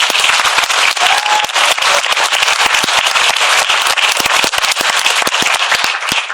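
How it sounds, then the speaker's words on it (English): A large crowd at a 2012 Kelso High School graduation ceremony gives the ushers a loud, dense round of applause, sustained and unbroken for the whole stretch. "Can we give them a big round of applause?"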